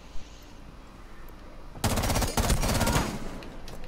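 Rapid burst of automatic gunfire in a shooter game, a quiet lull then a loud, dense rattle of fast repeated shots kicking in partway through and continuing to the end, close and dominant.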